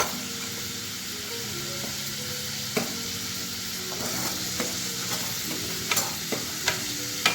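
Onion sizzles steadily in a pan on a low flame for homemade white sauce pasta, a constant close frying hiss broken by occasional clicks and scrapes of stirring.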